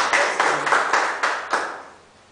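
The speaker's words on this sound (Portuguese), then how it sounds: "Pode aplaudir o Senhor, amém?" A church congregation clapping during a Portuguese-language worship service, heard as a short burst of rhythmic, evenly spaced handclaps at moderate distance that fades out within about two seconds.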